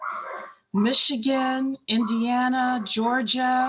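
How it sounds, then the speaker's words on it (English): A dog barks in short, yappy bursts close to the microphone, several sharp barks in quick succession while a person talks over and between them. "Oh, yes, that is my dog."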